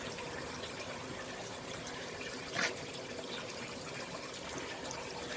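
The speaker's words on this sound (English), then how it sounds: "adding a bit of water." Water is poured into KÖSTER Wasserstop sealing powder, a soft continuous trickle close up at a low level, with one brief louder splash partway through.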